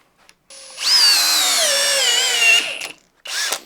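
A Flex compact drill drives a 4-inch timber lock screw into wood, its motor whining loudly and steadily for about two seconds with slight pitch shifts, then stopping, followed by a brief second burst.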